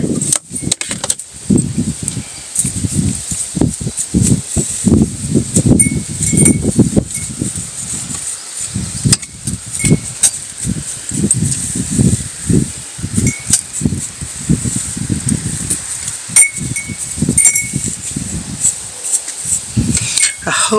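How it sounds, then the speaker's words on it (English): Gusty wind buffets outdoors, loud and continuous, with rustling and intermittent bursts of noise throughout. "It's really windy"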